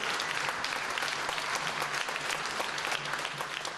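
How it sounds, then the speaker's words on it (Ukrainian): Steady, dense applause from a concert audience at a 2011 gala show, loud and continuous throughout without a break. "Святослав Бойко, ваші оплески."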